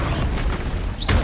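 Confringo fire-blast spell in Hogwarts Legacy going off as a loud, dense, rumbling explosion that fills the moment, with a brief rising whoosh near the end.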